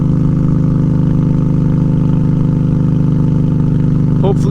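A Honda Shadow ACE 750 motorcycle with homemade straight-piped exhaust idles steadily and loudly up close, its deep throbbing pulse holding even throughout, with a brief clatter near the end.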